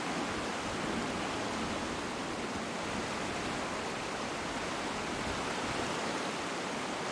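A strong, muddy river current in the Serengeti rushes as a steady, dense roar of water, unbroken and uniform throughout, with no voices over it.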